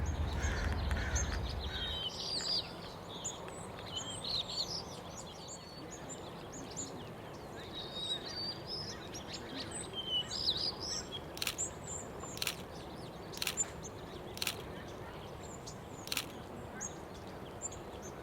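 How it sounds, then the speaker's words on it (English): White-crowned sparrows give faint, high chirps and short calls from brush outdoors. The scattered notes sit over a quiet, steady ambient hiss, with a few sharper clicks near the end. "There's some activity in the brush over here, probably white-crowned sparrows."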